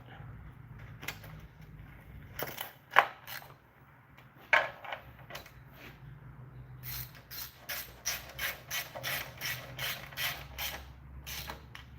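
A ratchet tightens the oil pan bolts on a pulled engine, with a few isolated clicks early on and then a quick, steady run of ratcheting clicks close by over a low background hum.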